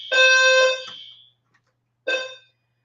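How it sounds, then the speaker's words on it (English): Electronic fire alarm sounding indoors in loud, harsh tonal blasts: one long blast of about a second, a pause, then a shorter burst, close and alone with no talk. "That's the fire alarm thing."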